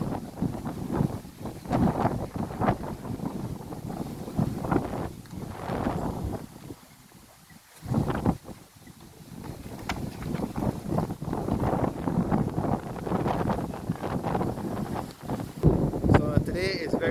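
Strong wind buffets a handheld camera microphone on a hilltop, a continuous loud roaring rumble with brief lulls and voices talking intermittently underneath.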